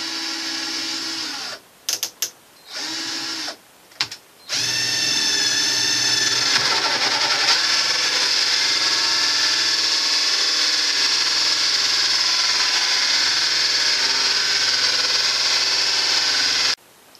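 A power drill bores five holes for a homemade terrarium, with a few short whirring bursts and gaps followed by one long, steady, loud grinding run.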